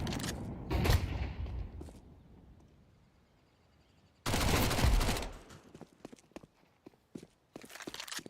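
Grenade and flashbang thrown during a Counter-Strike 2 competitive match: two loud bursts, one near the start and a bigger one midway, each followed by fading rumble, then sharp scattered in-game clicks and footsteps.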